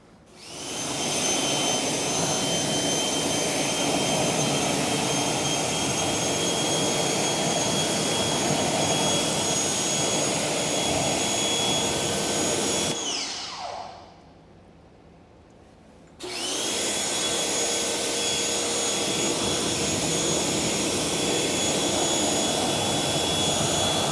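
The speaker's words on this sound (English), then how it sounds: "And then we just rinse." A pressure washer rinses car wheel cleaner off the wheels of a Mazda MX5 with a loud, constant hissing roar. The spray cuts out for a few seconds, then resumes just as strongly.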